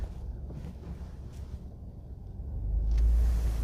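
Car driving on a UK road, a steady low engine and road rumble heard from inside the cabin that swells as the car pulls away and accelerates.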